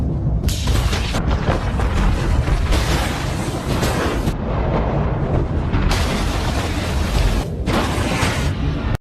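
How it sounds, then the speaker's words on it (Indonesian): Explosive blasts set off in mountain snow above a cliff in an action film, a loud sustained roar of rumbling booms and crashing debris that swells and dips over several seconds, dense and continuous with no speech. "Untuk memanjakan adrenalin, Craig meledakkan salju di atasnya,"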